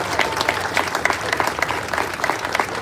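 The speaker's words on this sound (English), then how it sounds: "A round of applause for the people that put this parade together." Loud, close applause from a crowd at the Memorial Day parade in Washington DC, dense clapping sustained evenly throughout with no talk over it.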